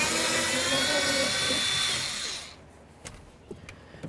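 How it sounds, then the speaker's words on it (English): Power tool whirring a 10mm socket on a bolt inside a 1999-2007 Chevy Silverado door, a close, steady buzzing spin for about two seconds that then winds down, followed by a few faint clicks and taps. "Use your 10mm socket, remove this bolt."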